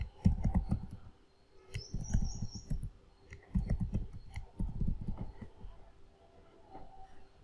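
Someone types a password on a computer keyboard in several clusters of quick, crisp key clicks separated by short pauses, close and fairly quiet, with no talking.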